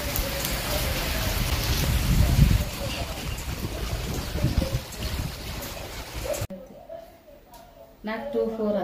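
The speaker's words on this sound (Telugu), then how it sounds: "సో వర్షం అయితే ఫుల్గా వస్తుంది." Heavy rain pours down outdoors in a broad, loud, steady wash that drops away sharply near the end, where a voice speaks.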